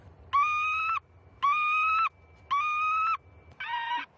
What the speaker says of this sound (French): Le vanneau.